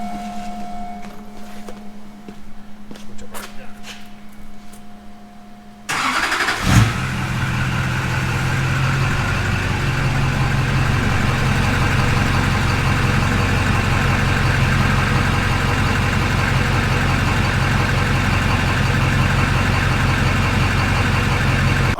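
A truck with a new FASS Titanium series fuel pump: first a steady electric pump whine, then the engine cranks and fires. It settles into a loud, even diesel-like idle that runs to the end, with no talking.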